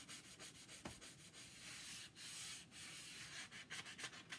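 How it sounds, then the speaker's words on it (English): Steady scratchy rubbing of sandpaper on wood edges by hand, close and continuous with short pauses and quick back-and-forth strokes. "all I'm doing is just sanding around the edges"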